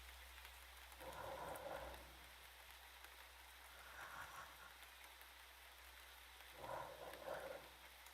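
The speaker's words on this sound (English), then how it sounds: "It almost sounds like rain." Soft, rain-like ambient hiss from a horror video game, set in an endless hallway, plays very faintly, swelling gently in three brief washes over a low background hum.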